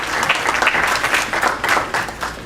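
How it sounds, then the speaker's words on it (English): Audience applause at a fundraising dinner for Koohi Goth Hospital in Karachi, greeting a $500 donor; dense, steady clapping from a room of people, sustained throughout at even loudness with no one speaking. "Big round of applause for Salim Qazi."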